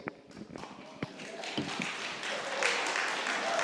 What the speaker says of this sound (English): Please hold your applause until the end of the forum, please